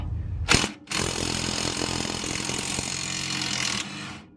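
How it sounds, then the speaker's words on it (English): An impact gun on a 14 mm socket spins a nut off the rear suspension of a Rav4 Prime: a short burst, a brief pause, then about three seconds of loud, close, continuous rattling whir that drops off at the end. "then gun it with the impact gun, the 14"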